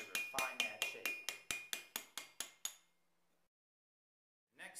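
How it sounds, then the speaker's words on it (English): A steel tooth chisel is struck on stone about a dozen times in a fast, even rhythm, each sharp ringing knock close and loud, then a pause of quiet before another sound begins. "Then you use the tooth chisel to begin to refine that shape."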